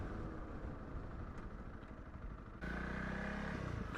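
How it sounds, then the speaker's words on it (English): A Honda CRF 300 Rally motorcycle engine runs nearby on a coastal ride in South Africa, a steady mid-pitched drone that jumps louder partway through as the throttle opens, with no voices. "the Honda CRF with its 300 engine has got the best sounding engine when you rev it"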